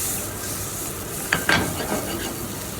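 Vegetables and chopped pasta sauté and get stirred in a pan, giving a steady sizzling hiss with two sharp utensil clinks partway through; no one speaks.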